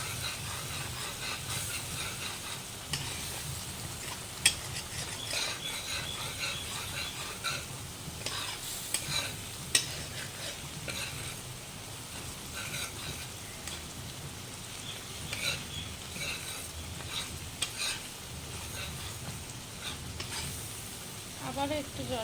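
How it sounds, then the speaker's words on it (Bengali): Continuous sizzling and frying from a pan of Bengali-style pure-veg potol dorma as it is stirred, with occasional scraping clinks of the utensil over a steady hiss, fairly close and moderate in level. "দিয়ে এভাবে আমরা নাড়িয়ে চাড়িয়ে নেব।"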